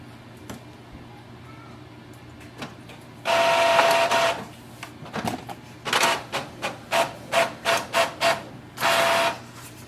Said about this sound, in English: Let's do a printing and I'll see how much improvement is there.